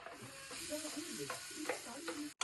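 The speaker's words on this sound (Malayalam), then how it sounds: "നമ്മൾ നന്നായിട്ട് മിക്സ് ചെയ്ത് വഴട്ടാം." Chopped onion, garlic, ginger and chilli stirred and sautéed in a pan for mushroom masala, with a steady moderate sizzle and repeated scraping strokes of a spoon, heard alone.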